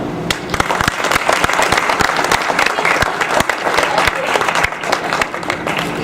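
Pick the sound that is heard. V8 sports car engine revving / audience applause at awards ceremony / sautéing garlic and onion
audience applause at awards ceremony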